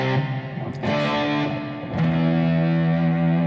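Electric guitar played through a Black Arts Toneworks fuzz pedal set to its Green Russian mode: thick, distorted sustained chords ringing loud and close, with fresh strums near one and two seconds, and no voices.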